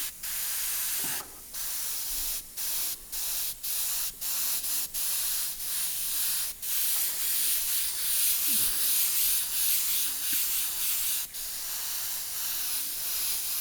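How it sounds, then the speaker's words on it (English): Continuous hissing spray from an airbrush painting, broken by short pauses and quick stop-start bursts, close and steady throughout. "I am spraying over lines and detail"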